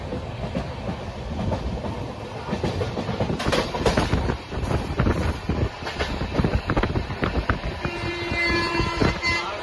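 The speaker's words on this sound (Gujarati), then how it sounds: "ટ્રેન આવે ટ્રેન" A train rumbles past close by with rattling wheels and clanking cars, growing busier toward the end as screeching brake tones appear.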